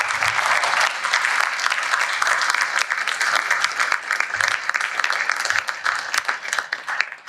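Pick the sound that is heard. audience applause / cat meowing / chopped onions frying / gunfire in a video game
audience applause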